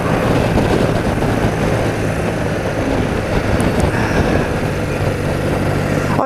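An old motorbike is ridden along, its engine a steady, loud, close drone mixed with heavy wind rush and road noise throughout, with no talk.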